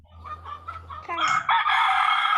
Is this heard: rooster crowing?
yes